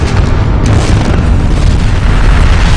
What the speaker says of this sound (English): this is a nuclear bomb with the mass of Manhattan